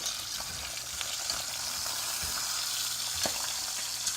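Chicken pieces sizzle steadily in a frying pan while being flipped over, a constant close crackle with a few soft utensil taps and no talking.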